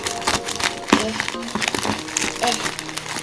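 Plastic and cardboard packaging of a Super Nintendo Classic Edition crinkling in quick, irregular bursts as it is unboxed, with people talking over it.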